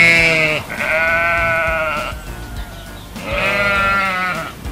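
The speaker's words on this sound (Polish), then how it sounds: "Owca beczy!" Two long, wavering sheep bleats separated by a short pause, loud and close, with no voices.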